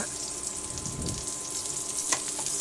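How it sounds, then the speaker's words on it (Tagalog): Cooking oil sizzles in a preheated wok-style pan, a steady close crackling hiss that runs evenly throughout, with a brief sharper spatter near the end. "meron na po ako ditong pinainit na kawali and then lagyan po natin ng mantika"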